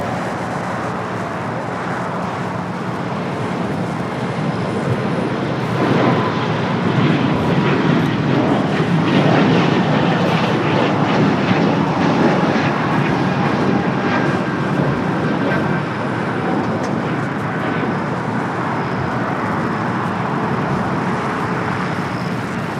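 An airliner takes off from runway 25 right at Los Angeles International Airport, its jet engines building into a loud, steady broadband roar that holds for over twenty seconds without any talk.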